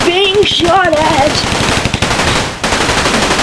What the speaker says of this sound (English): I'm running for my life because I'm currently being shot at.